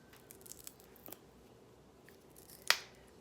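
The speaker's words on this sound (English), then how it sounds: "just snip that little piece off and then that little piece off." Scissors snipping the ends off green beans, a few faint quiet cuts followed by one sharp, close snip near the end; no talking.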